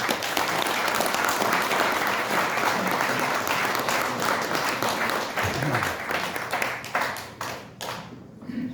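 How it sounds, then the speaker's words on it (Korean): A crowd at a political party launch rally claps to welcome Ko Young-ju to the stage, loud continuous applause with crisp individual claps that thins out near the end, a few voices underneath. "고영주 대표님 박수로 맞이해 주십시오."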